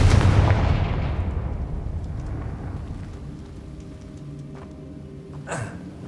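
A Confringo fire-blasting spell explodes in Hogwarts Legacy: a loud, close, booming burst at the start that rolls off into a long fading rumble, with a brief sharp crackle near the end.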